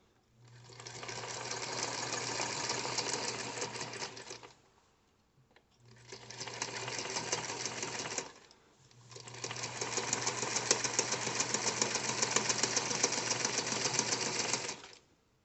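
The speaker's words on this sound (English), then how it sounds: "sew the pocket down to keep it in place for when I assemble the bag" A sewing machine stitches a pocket onto the lining of a beginner's crossbody purse in three steady runs of rapid needle chatter with short pauses between them. No one speaks.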